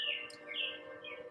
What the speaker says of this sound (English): There's some lovely birds chirping,